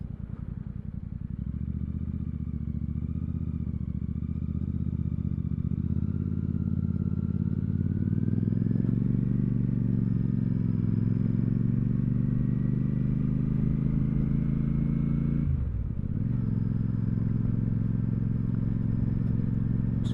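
A Royal Enfield Super Meteor 650 cruiser rides a bumpy, twisty road with sharp bends, its steady engine drone and rumble continuous and close throughout, with a brief dip and change in pitch near the end; no voices.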